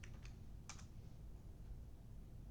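Very quiet typing on a computer keyboard, a few soft clustered keystrokes near the start over a low steady background hum.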